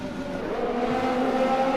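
A Formula 1 race car engine in F1 2020 whines steadily after a spin-out, its pitch climbing as the car gets going again, loud and alone with no voices.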